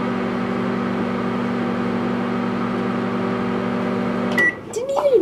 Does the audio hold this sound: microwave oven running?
yes